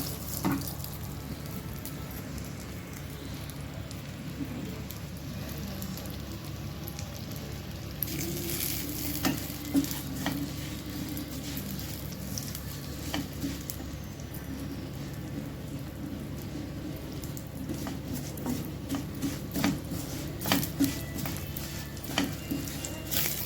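Green chilies and sesame seeds fry in an oiled pan for a tomato sesame chutney, making a continuous soft sizzle scattered with small crackles and pops, fairly quiet and steady for a long stretch.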